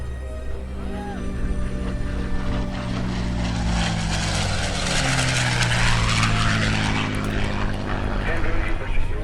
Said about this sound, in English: Here he comes, Andrew McKenna, P-51 Mustang.